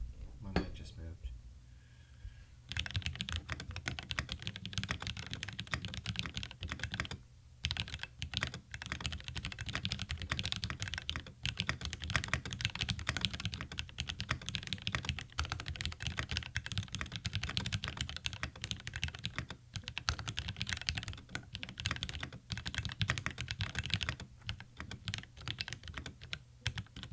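Fast, continuous typing clatters on a computer keyboard dampened with DynaMat, close and busy with dense, muted key strikes and a few brief pauses.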